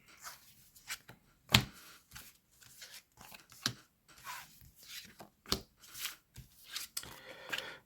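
Five playing cards dealt one after another onto a table, producing soft, irregular flicks, slides and taps that sound close but quiet, with no voices.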